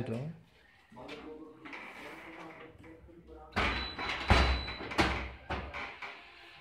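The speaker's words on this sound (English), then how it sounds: "Close the door." A bottle vending machine's door is shut, producing a few loud thuds and knocks partway through, while a person talks throughout.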